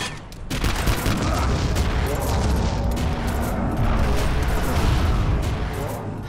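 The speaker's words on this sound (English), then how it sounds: "The chain gun is harmless and pointless." Chain gun firing in the shooter game Vivisector, a dense, continuous mechanical rattle of rapid shots with booming impacts, loud and sustained, with a voice talking over it.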